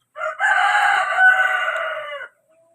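A rooster crows once at a chicken pen, loud and close, a long drawn-out call that ends abruptly into quiet.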